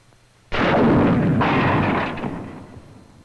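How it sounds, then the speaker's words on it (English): An M6 bazooka anti-tank rocket fires in a WWII training setting, one sudden loud blast whose roar rushes away and fades over about two seconds, with no voices. "When you're firing the rocket from foxholes or trenches"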